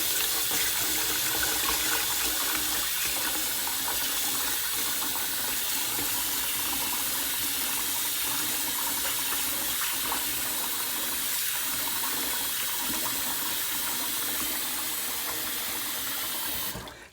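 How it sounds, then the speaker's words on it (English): Rice being rinsed in a large bowl under a running sink tap, a loud steady rush of water with splashing and swirling, continuous and close, cutting off at the end. "put it into a larger bowl and then take it to the sink, right? And then give it a good rinse."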